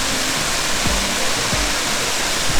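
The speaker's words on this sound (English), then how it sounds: "It's a nice fresh mist off the waterfall." Steady broadband roar of a waterfall at Ricketts Glen State Park under an overcast sky, a continuous close rush of falling water with no voices.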